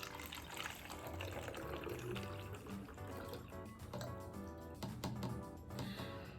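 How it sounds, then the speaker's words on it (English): Rainwater is poured from a rain gauge back into a plastic water bottle, making a soft, steady splashing trickle that runs for several seconds at low volume. "I'm going to pour this off back into the container."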